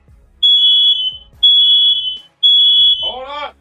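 Smoke detectors in a house fire sound three loud, high piercing beeps in an even rhythm, ending with a voice.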